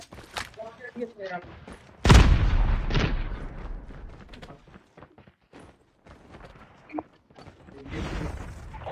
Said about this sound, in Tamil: அவங்க எல்லா வண்டியும் வெடிக்க வச்சுக்கிறானுங்க